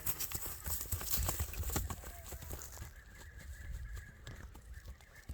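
Horse hooves clip-clop at a Kyrgyz horse sale, a run of steady hoof strikes close by that fades somewhat toward the end, with faint bird calls in the background.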